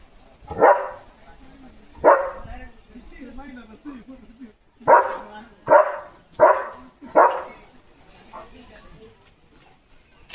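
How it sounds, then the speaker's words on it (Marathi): A German Shepherd barks at cattle coming home from the fields, firing off about seven sharp, loud barks in uneven bursts with quiet gaps between them. "आता गुरु रानातून घरी यायला लागलेत तर भुंकतोय"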